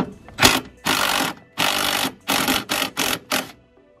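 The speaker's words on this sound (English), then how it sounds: "next we switch back over to our 10mm to remove this bolt, which is what is essentially holding in the airbox" A 10mm wrench ratchets out the bolt holding the airbox on a MINI John Cooper Works F56, giving about seven close, rapid bursts of clicking separated by short pauses.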